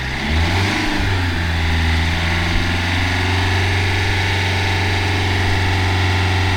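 A Fiat Egea 1.6 Multijet with an automatic gearbox, its engine revving briefly and then held at a steady, loud, droning hum up close, with no talking.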